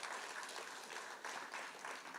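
A church congregation at a Sunday morning service claps together, a soft, distant patter of many hands coming in uneven swells over a couple of seconds.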